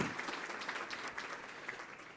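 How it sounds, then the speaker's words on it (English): Brief applause from a packed forum audience at a Columbus Metropolitan Club event, a soft, fairly distant patter of many hands lasting a couple of seconds. "Let's give them a round of applause for supporting today's forum."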